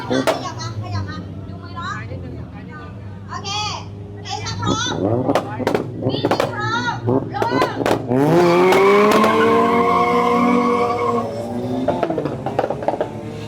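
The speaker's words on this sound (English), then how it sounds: "Pretty much the slowest and cutest drag race you've ever seen in your life." Small cars launch in a slow drag race at a big Asian car festival, engines revving and rising in pitch before a loud, sustained pull, with people talking and children's voices in the crowd.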